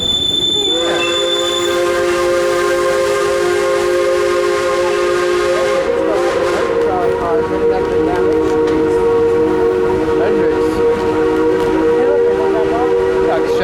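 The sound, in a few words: Durbin Rocket tourist train running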